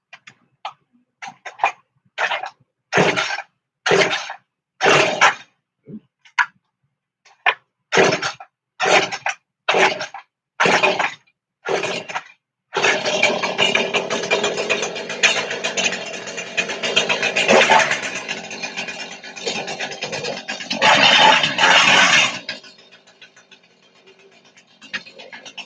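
New chainsaw engine being pull-started, a run of sharp coughing pulls, then catching and running loudly and close for about ten seconds with a rev near the end before cutting off.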